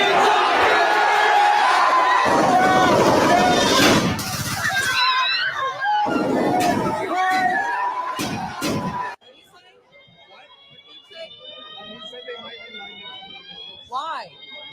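A movie theater audience at a Minecraft Movie showing screams and cheers in a loud, dense roar for about nine seconds. It then drops to quieter crowd chatter with shrill whistles and squeals rising above it.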